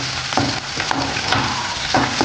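Chopped garlic and green chillies fry in hot oil for street-style paneer fried rice, a loud, dense sizzle broken by a few scraping stirs of the pan, with no voices.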